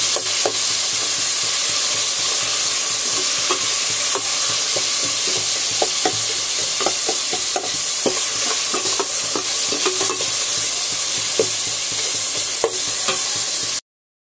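Onions and tomatoes fry in a pan for paneer dum biryani, giving a loud, continuous sizzle with scattered spoon clicks from stirring until the sound cuts off abruptly.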